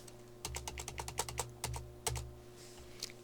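Computer keyboard keys clack in an irregular run of close, crisp presses while data is entered into business logistics software, with a steady low hum underneath and brief pauses between bursts.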